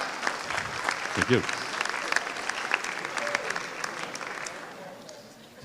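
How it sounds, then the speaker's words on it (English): Audience at a town meeting applauds steadily in a large hall, the clapping sustained throughout while a speaker talks over it. "Applaud yourself for all being alive."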